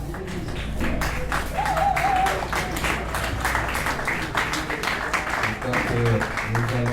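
Applause from an audience at a stage show in Niamey, a crowd clapping under speech and music, the hand claps moderately loud and mixed with other sounds rather than standing alone.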